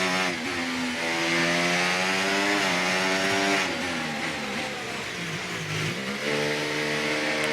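A Formula 1 car in the video game F1 24 drones steadily as it enters the pits at reduced speed, engine pitch wavering slightly and easing lower near the end, loud and up close with no speech.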